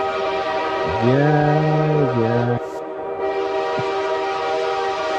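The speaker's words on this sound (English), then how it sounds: "Got the train. Choo-choo train" Train horn sound effect, a loud, sustained multi-tone blast lasting about a second and a half and then cutting off, with a brief spoken word afterward.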